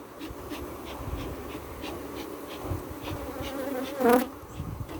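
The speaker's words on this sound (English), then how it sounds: "Hey, you got bees there, boy." Bees buzz around a beehive colony, a steady close insect hum with individual bees droning past the microphone and one passing loudly near the end.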